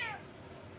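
A hungry, cranky cat lets out one short, close meow that fades quickly, with nothing else heard.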